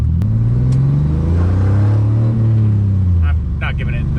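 Supercharged V6 Firebird engine revving hard under acceleration, a loud, rising-and-falling harmonic drone close by, with people talking over it near the end.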